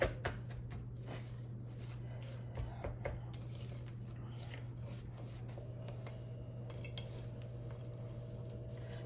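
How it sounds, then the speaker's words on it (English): A spoon stirs a sticky no-bake peanut butter snowball mixture in a bowl, giving soft, scattered scraping taps and clinks at close range over a low steady hum. Nobody speaks. "Every once in a while, I'm just going to stop it and stir things up a little bit."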